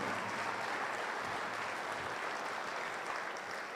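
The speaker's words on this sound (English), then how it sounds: "Give these kids and those that helped them get here really nice round of applause." Sustained, steady applause from a crowd at a youth fair market steer show in Polk County, filling the whole stretch evenly and loud, with faint voices underneath.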